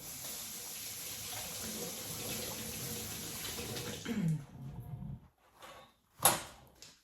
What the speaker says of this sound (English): I'm gonna go ahead and rinse my hands off real quick.